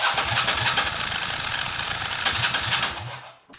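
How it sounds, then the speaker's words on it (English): Cagiva Elefant motorcycle engine spun over by its starter motor with the spark plugs removed, giving a steady, loud mechanical churning that runs for about three seconds before stopping abruptly. "run it a couple of times with the starter motor just to get the oil around in the system"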